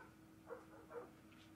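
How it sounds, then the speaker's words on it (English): Dogs in a kennel aboard a ship bark faintly in the distance, two short muffled yips about half a second apart over a low steady hum, followed by a softer third sound. "Dogs are going crazy."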